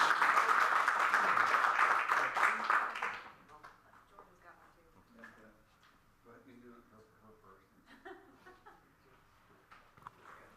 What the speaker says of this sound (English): We could just give her a round of applause